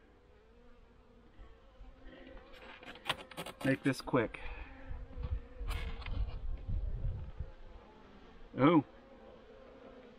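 Honeybees buzz in short bursts around an open hive during a winter inspection in Pennsylvania, with a few rising buzzes close by mixed with handling clatter and a brief voice.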